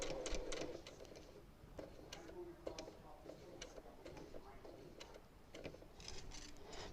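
A sewing machine stitches quilt binding at a 45-degree angle out toward the corner, giving a light, fast ticking patter with faint clicks that runs steadily at moderate loudness throughout.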